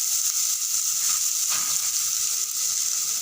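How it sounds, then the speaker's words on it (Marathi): Chopped onions sautéing in a pan with mustard seeds and cumin for Maharashtrian whole masoor aamti, a bright steady sizzle up close with faint stirring, no talking. "मी कांद्याचं परतून घेते"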